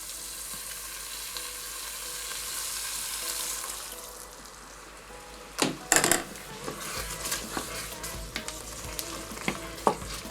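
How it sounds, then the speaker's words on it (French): Risotto with vegetable broth is stirred in a pan: a gentle sizzle and bubbling at first, then a spoon scrapes and knocks against the pan in irregular bursts, close and fairly quiet. "On mélange tout du long"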